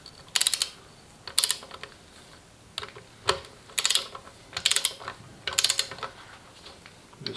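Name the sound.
torque wrench tightening engine bearing cap bolts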